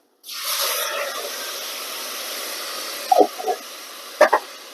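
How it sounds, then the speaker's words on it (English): Rice base and water poured into a pot, a steady hissing splash that runs for about three seconds, followed by two short clattering knocks, close and moderately loud with no talking. "I'm just going to pour the base in and some water."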